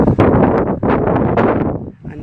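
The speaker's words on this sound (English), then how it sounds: "a windy day today" Outdoor wind on a blustery day, buffeting the microphone with a loud, continuous rumbling roar that surges and briefly dips near the end.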